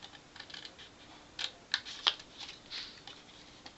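Scissors snip through material for a handmade Christmas tree ornament: a few short, sharp cuts close by in quiet surroundings, irregularly spaced, with softer rustling between them.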